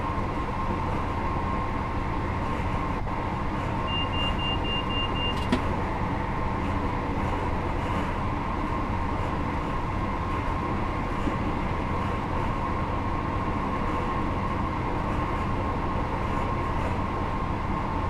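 HST train running in Train Sim World 4: a steady, quiet droning engine and rolling hum with a thin high tone appearing briefly, continuous and even throughout with no talking.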